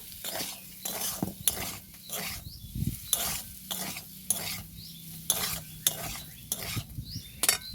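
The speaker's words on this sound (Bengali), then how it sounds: "ডিমটাকে আরও একবার ভালো করে মিক্স করে নেব" Egg mixed with a spoon in a bowl with turmeric and salt, a rapid run of close scraping and clinking strokes in irregular bursts, no talk.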